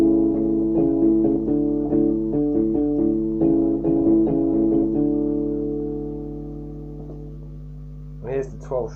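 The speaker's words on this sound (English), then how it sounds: "And here's the folk. This is the folk one." Folk guitar patch on an electronic keyboard strums quick plucked notes that settle into a long sustained chord fading away, nearby, with a brief voice at the end.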